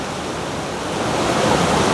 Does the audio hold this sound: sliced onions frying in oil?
no